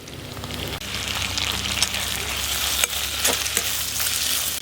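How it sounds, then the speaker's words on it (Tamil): Tomatoes, onions and green chillies fry in a pan for a goat lung gravy, giving a steady, loud, close sizzle with a few sharp spatula clicks and scrapes against the pan. "தக்காளி வெங்காயம் வதங்குறதுக்கு கல்லுப்பு சேர்த்துக்கிடுவோம்."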